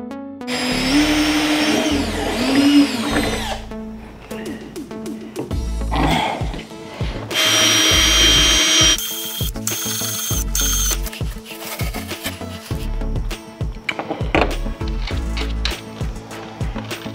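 A power tool whirs in loud, varying bursts while tightening bolts during a razor pack install on a Harley-Davidson Street Glide, with intermittent clanks and handling noises between runs.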